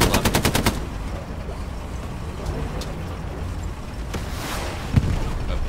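Tank cannon and machine-gun fire from a Stuart light tank in the Hell Let Loose video game: a fast loud burst of automatic shots at the start, then a steady rumbling engine din with a sharp single shot near the end.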